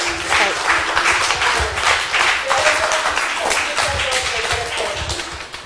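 Applause for the second speaker at the PAWA annual seminar on violence against women, a broad burst of clapping filling the whole stretch, with faint voices and tonal sounds mixed into the crowd noise.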